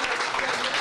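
A studio audience at a televised football show gives a short, dense burst of clapping for a young player's coach. The applause is steady and close, and no voices are heard over it.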